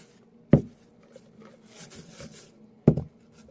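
Plastic container shifting and knocking on a surface while slime is mixed, giving two hollow thumps about two seconds apart with soft rubbing and sticky shuffling between, fairly close and alone.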